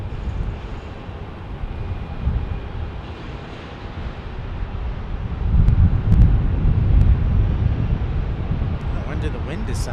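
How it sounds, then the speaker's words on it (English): Wind gusts roar across a microphone at Phoenix Sky Harbor airport as a loud, steady low rumble that swells in the middle, with a few faint clicks near the end. "Did the wind decide to act up?"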